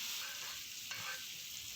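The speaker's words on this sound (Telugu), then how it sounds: "ఇలా ఫ్రై అయిన పోపులోకి మనం స్మాష్ చేసి పెట్టుకున్న పప్పును వేసేసుకొని" Mashed dal tipped into a hot fried tempering of chilli pieces and stirred, a steady sizzle and frying hiss with soft stirring, close and even throughout.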